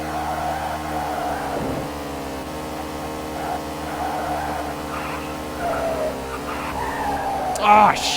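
Stock car in a Sega CD/32X racing game skidding into a spin-out, a steady engine hum with tire skid running throughout, while people talk over it.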